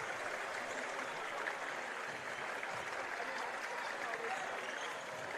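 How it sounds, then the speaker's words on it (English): Student section clapping at a boys high school basketball game, Carroll at Bishop Dwenger, steady dense applause and crowd noise filling the gym for the whole stretch without a break. "Student section joins the clapping."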